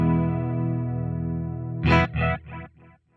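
An electric guitar runs through a Deluxe Memory Man delay model on a Line 6 Helix at 300 ms, giving a sustained chorus-like, phasey warble, then several short strummed chords whose echoes fade out quickly.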